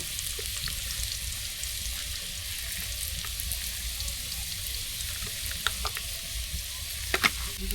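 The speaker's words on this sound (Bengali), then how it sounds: "দিয়ে লাল লাল করে আলুটা ভেজে নেব" Potatoes with turmeric and salt fry in oil until reddish, giving a steady close sizzle with a few brief clinks near the end and no voices.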